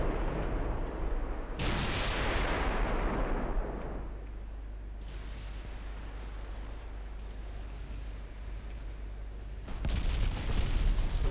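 Heavy warship guns fire in the naval game Ultimate Admiral Dreadnoughts, a few deep booms spaced seconds apart, one loud blast rolling away in a long rumbling decay over a low background hum.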